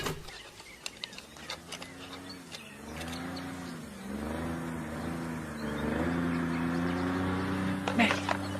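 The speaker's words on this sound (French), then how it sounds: "un bruit de moteur à midi, descends." An engine drones low and steady, swelling louder midway and holding, with scattered clicks and faint voices.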